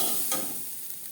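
Pea greens stir-fried in a pan over a medium-high gas flame, a soft, steady sizzle with a brief scrape of stirring.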